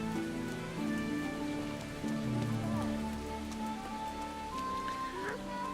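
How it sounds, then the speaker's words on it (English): Rain falling steadily in the medieval game Kingdom Come: Deliverance, a constant moderately loud hiss that runs the full length with low tonal game sounds beneath it. "It's raining."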